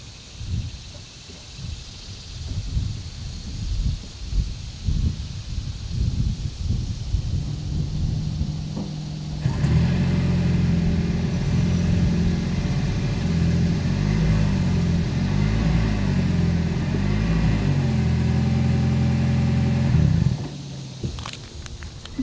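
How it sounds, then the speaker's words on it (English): A Toyota Avalon Hybrid idles quietly at first, then starts up with a steady low exhaust hum and a few mild revs for about ten seconds before cutting off, heard close with nothing else around. "here is that exhaust clip."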